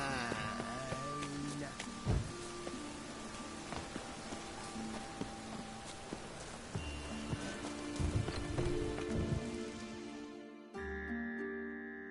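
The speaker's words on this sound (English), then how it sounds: "Rain, I like rain" Rain falls steadily in the video game Sekiro, a soft continuous patter under game music and character voices, with a few sharper thuds before the ambience cuts off near the end.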